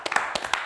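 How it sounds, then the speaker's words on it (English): A group applauds in a coaching session, giving short bursts of clapping with several distinct clustered claps over a brief stretch, moderately near. "We should also give an applause to the"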